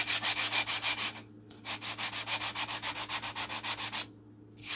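Rhythmic back-and-forth sanding strokes rasp against the wooden vertical fin and rudder pieces of a model airplane in quick, even bursts, pausing twice before resuming; close and fairly loud.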